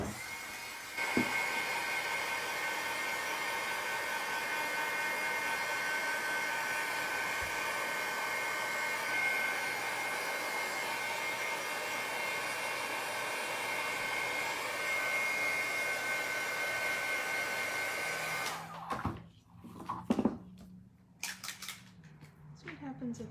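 A hair dryer blows steadily at close range for about eighteen seconds to dry patina on a Rolodex card, then switches off, followed by a few light handling knocks and rustles.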